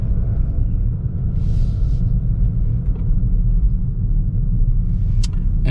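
A 2025 Toyota GR Corolla automatic rolling at low speed in drive, with a steady low engine and road rumble throughout and a few faint brief ticks and clicks from the cabin.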